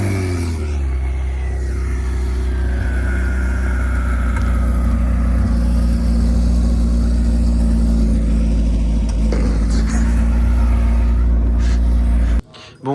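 A supercar engine holds a steady idle rumble, with a high whine or whistle rising over it, then cuts off abruptly near the end.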